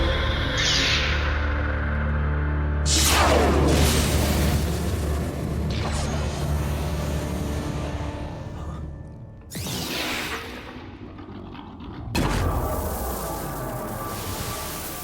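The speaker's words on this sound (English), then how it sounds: "that explosion is massive" A massive explosion from the anime film Redline booms out with a deep, sustained roar, followed by further sharp blasts and rumbling bursts, loud and dense with no talking.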